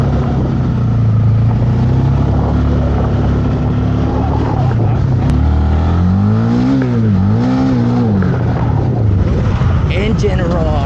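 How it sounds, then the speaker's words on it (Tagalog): A 2024 Honda Winner X 150 premium motorcycle in matte black idles loudly, then revs up and down several times midway through, while a voice is heard at moments. "Engine roar."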